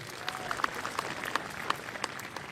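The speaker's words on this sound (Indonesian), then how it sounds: "Hadirin kami mohon tepuk tangannya yang meriah" Audience clapping after a speech by Indonesia's Minister of Religious Affairs at a national prayer event marking 80 years of independence in Jakarta, fairly faint and distant, with a few sharper individual claps popping out of the soft crowd wash.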